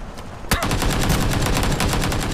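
Rapid automatic gunfire from a shooting video game, a sharp shot followed by a steady, fast rhythmic stream of loud bursts lasting a couple of seconds, with no talking.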